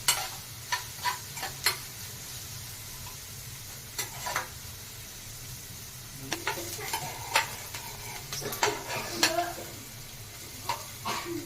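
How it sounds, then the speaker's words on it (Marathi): Onion sautéing in a pan until pinkish, a soft steady sizzle broken by sharp scraping taps of a spoon stirring, close and fairly quiet, no talking. "कांदा आता मस्त असा परतला गेला आहे थोडा गुलाबी रंगावर आला आहे"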